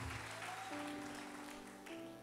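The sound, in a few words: congregation applauding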